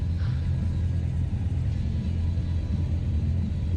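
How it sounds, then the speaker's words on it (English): A car passes close by a motorcycle on the road, its engine a deep, loud, steady rumble dominating the low end throughout, with continuous road noise and no speech. "There's a car."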